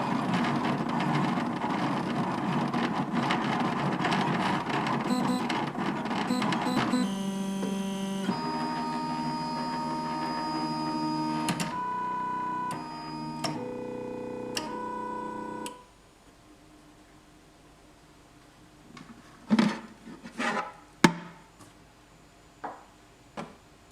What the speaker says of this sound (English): The printer is just about finished. It's got about 40 seconds to run